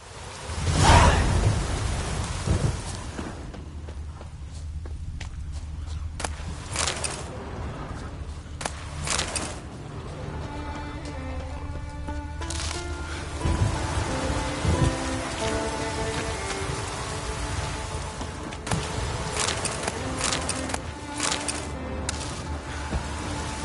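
Steady rain falls during a thunderstorm in The Witcher 3 on PS5, a continuous hiss with a low rumble of thunder near the start, under soft background game music.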